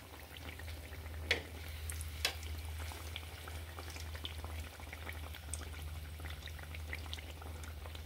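Sweet sugar pitha cakes deep-fry in a village kitchen, giving a faint, steady bubbling sizzle of oil with a couple of soft clicks and no voices.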